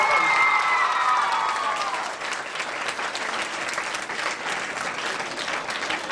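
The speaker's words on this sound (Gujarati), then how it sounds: "તાળીઓના ગડગડાટ સાથે" Applause from an audience at a school annual day event, a dense close clapping that starts strong, with a brief high tone at the outset, then continues steadily through the whole stretch.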